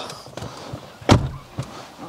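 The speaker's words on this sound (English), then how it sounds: "door shut beautifully as you would expect" A car door on a retro luxury daily driver shuts with one solid, close thump, surrounded by a few softer handling clicks and knocks.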